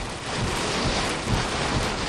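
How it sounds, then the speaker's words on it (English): Storm with heavy rain, wind and sleet at Bells Beach surf beach, heard from inside a parked car as a dense, constant roar and hiss with no break. "Man, hopefully this storm goes away soon."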